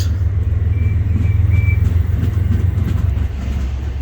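A passenger train rumbles steadily past at close range, a heavy continuous roar with rattling wheels and a faint high squeal.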